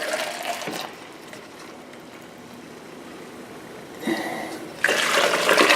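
Liquid pours from a pot into a quart measuring container in a kitchen while making chicken lima bean and kale soup, with gushing bursts at the start and end around a quieter trickling stretch and no talk.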